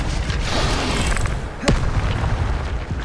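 A sharp blast from an Incendio fire spell in a Hogwarts video game bursts out once midway, loud and close over a dense, rumbling game soundscape.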